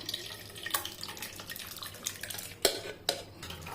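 Tomato water for sambar is poured through a metal strainer into a vessel, giving a light trickling splash with a few sharp clinks of the strainer against the pot, fairly quiet and close.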